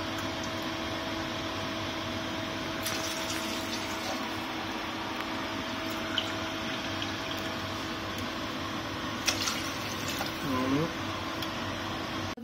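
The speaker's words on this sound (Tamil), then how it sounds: "இப்போ வந்து இதுக்கு ஏற்ற அளவுக்கு தண்ணி ஊற்றிக்கலாம்" Water is poured into a pot of washed rice and lentils as a continuous, even rushing splash lasting several seconds, with a faint mechanical hum underneath.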